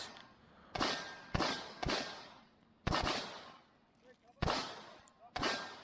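Two shooters trading turns firing from cover, sharp gunshot cracks spaced irregularly, about seven shots with echoing tails, moderately distant, no talk.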